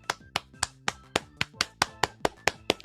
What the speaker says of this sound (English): Let's have a round of applause for this week.